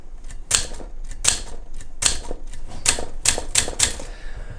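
Typing on an Adler Contessa De Luxe typewriter under inspection and troubleshooting: a close, loud run of sharp key strikes landing in uneven clusters, with no voices.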